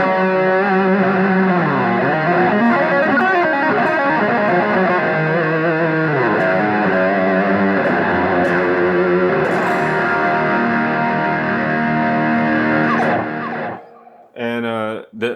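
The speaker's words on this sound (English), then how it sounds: "Then I turn on a boost and a delay." Electric guitar run through a boost and a delay, with an amp simulator in a studio, playing a sustained, driven melodic passage with echoing repeats, steady and loud throughout before stopping near the end.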